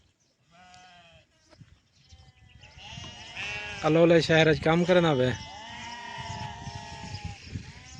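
Sheep on a farm bleat loudly in a cluster of wavering cries in the middle of the clip, close to the listener. Someone speaks before and after the bleating, with farm background noise behind him.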